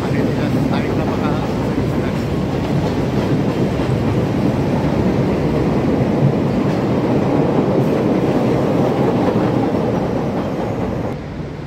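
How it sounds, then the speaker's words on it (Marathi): A Chicago metro train headed toward Linden runs past with a loud, steady rumble and rattling clatter of wheels on rail, fading slightly at the very end. "लिंडेनला चाललेली मेट्रो आहे"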